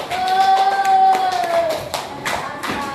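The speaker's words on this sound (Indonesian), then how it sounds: "beri tepuk tangan untuk kelompok satu" A class of fourth-grade students claps for group one during a school lesson, scattered, uneven hand claps mixed with a sustained voice and other sounds of the room.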